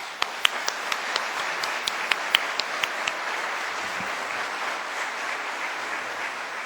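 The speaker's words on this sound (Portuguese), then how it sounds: "palmas." A lecture audience in a São Paulo spiritist hall claps warmly, a steady, dense patter with a few sharper individual claps standing out near the start, holding at an even level throughout.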